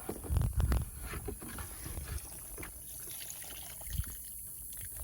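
Water poured by hand onto bare soil outdoors for an infiltration test, a soft splashing and trickling burst near the start that fades to a low, steady dribble.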